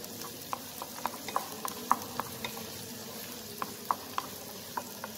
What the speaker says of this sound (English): And stir continuously with the helping of spatula.